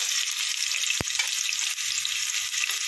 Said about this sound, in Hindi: इसमें अब हम प्याज और हमारे खड़े मसाले ऐड करेंगे